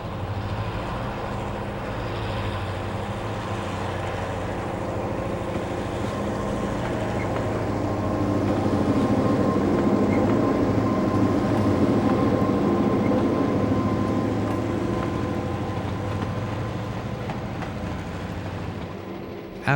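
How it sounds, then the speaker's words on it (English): The B&O passenger train Shenandoah rolls into Fostoria Station, a loud, steady low rumble of engine and wheels that swells in the middle and eases slightly toward the end, with no voices. "The Shenandoah arrives at Fostoria Station with a lone passenger at the shelter."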